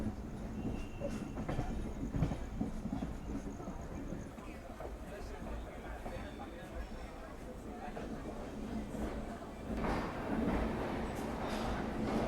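A sleeper train rolls into Mysore junction with a steady, dull rumble and faint clatter of wheels under ongoing conversation.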